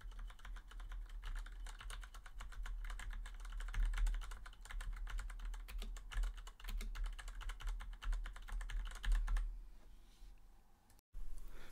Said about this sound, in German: HyperX Klappern mechanische Tastatur.